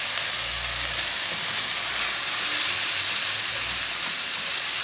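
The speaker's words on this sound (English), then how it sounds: "So next I'm going to add the chili jam. Give it a good mix." Chili jam hisses and sizzles loudly in a hot pan while it is stirred in. The frying noise is steady and close, with faint scraping underneath and no voice.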